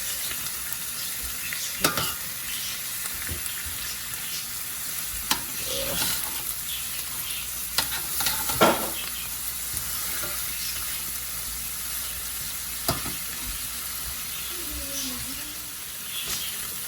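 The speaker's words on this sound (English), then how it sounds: "I just sear this each side so the flavor can be seared in" Meat searing in a pan for an Arabic pantry comfort dish, a steady close hiss of frying with occasional scrapes and clicks of stirring.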